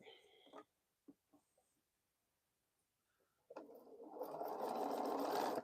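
A sewing machine runs steadily through a quilt block for a boho heart sew-along, starting after a few soft thumps and building to a continuous close whir for the last two seconds.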